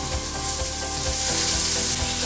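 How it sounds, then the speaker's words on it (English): Loud, steady sizzling of lamb cutlets frying in a hot pan, crackling continuously with faint periodic thumps underneath. "Oh yes, can you hear the sizzle?"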